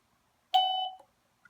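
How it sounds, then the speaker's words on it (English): Electronic doorbell confirmation beep: a single clean tone lasting about half a second that fades out, followed by a tiny faint blip, in an otherwise silent room. "Until you hear the beep,"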